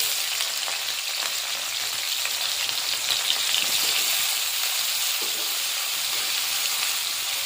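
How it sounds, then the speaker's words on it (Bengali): Boiled jackfruit pieces fry in mustard oil in a wok, giving a steady, close, even sizzle with no pauses and no voices. "এবার সিদ্ধ করা এঁচড়গুলো ভেজে নেব।"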